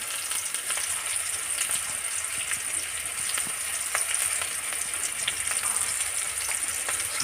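Red lentil curry with turmeric and ginger frying in a pan, a dense steady sizzle with faint scattered clicks of stirring throughout, close and unbroken, without voices.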